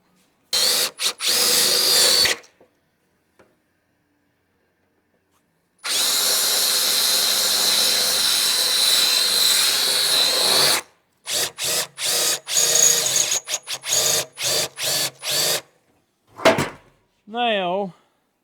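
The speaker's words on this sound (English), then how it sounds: "let me drill them out and then we'll go from there" Several bursts of a power drill grinding into the metal of a 1965 Chevrolet C10 truck bed side, one long run and a series of short stop-start pulses, with brief pauses between and a quick whirring at the end.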